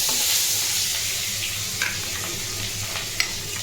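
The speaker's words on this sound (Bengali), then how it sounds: "মাছ ভাজছি একটা একটা করে কড়াইতে।" Rohu fish pieces frying in oil in a kadai, a steady close sizzle with occasional sharp pops and crackles throughout.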